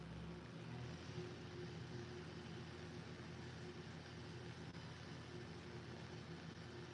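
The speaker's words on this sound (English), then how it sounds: "It sounds like an engine's getting ready to explode." A strange engine-like rumbling indoors, heard as a faint, steady low hum with a droning tonal buzz that holds unchanged throughout, with no talking.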